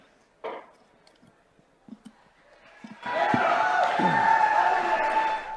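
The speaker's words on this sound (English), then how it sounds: "And the crowd goes wild" A small crowd at a cyber symposium breaks into cheering and applause, a sustained wash of voices and clapping that rises suddenly after a few scattered faint sounds and carries on steadily to the end.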